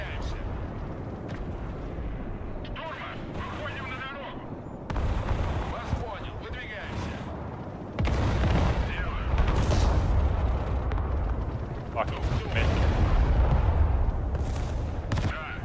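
Bombing and artillery explosions in the real-time strategy game Broken Arrow, heavy booming blasts and rumbling impacts that step up in loudness partway through, with someone talking over the battle.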